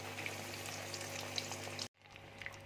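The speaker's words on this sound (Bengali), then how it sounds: "এবার দেখো কড়াইয়ে তেল দিয়েছি, তেল গরম হয়ে গেছে। এবার আমি পেঁয়াজটা এইভাবে ছেড়ে দিচ্ছি।" Breadcrumb-coated onion fries in hot oil in a wok, giving a faint, steady sizzle with small pops that cuts out briefly and then resumes more quietly.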